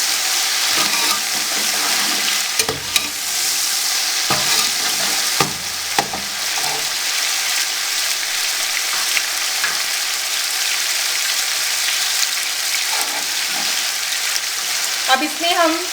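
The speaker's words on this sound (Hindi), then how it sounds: "अब इसको भी हम 1 मिनट के लिए फ्राई कर लेंगे।" Garlic and ginger paste fries hard in an oiled pan, a loud steady sizzle and crackle running throughout, with a few sharper spoon scrapes and clatters along the way.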